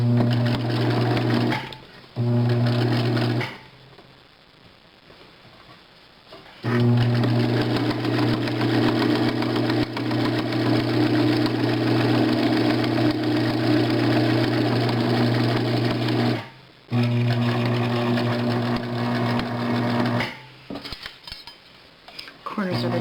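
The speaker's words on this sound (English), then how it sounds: "I'm just going to sew all the way around." A sewing machine stitching around the edge of a flannel cloth diaper, its steady motor whir and rapid needle clatter running in long bursts separated by short pauses, close and fairly loud, with no voices.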